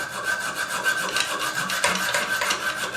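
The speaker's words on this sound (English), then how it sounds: "you should take a saw and remove the excess bolt" Saw cutting off an excess toilet floor bolt, a close, loud, steady back-and-forth rasping with an even rhythm of strokes throughout.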